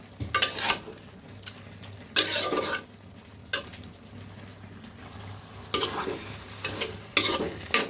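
Taro leaves (kochu shak) stirred and fried in a pan: repeated scraping strokes of a spoon against the pan at an uneven rhythm over a steady low sizzle, close and clear, with no talking.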